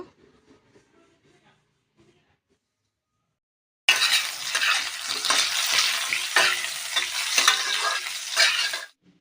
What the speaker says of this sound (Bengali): আলুগুলো কিছুক্ষণ ভাজা করে নেব